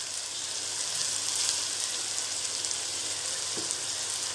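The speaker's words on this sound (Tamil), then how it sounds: "வெங்காயம் சேர்த்துட்டு அதை நல்லா கிளறி விடணும்." Chopped onions fry in a pan for a ladyfinger tamarind curry: a steady, even, close sizzle hiss with hardly any variation, and no one speaking.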